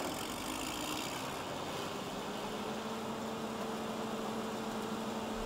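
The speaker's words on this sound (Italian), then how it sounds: "Trattore, ecco il trattore che torna, finalmente." A tractor engine in the Farming Simulator 15 video game drones steadily at moderate level, a continuous low mechanical hum with a faint tonal whine running through it, heard alone.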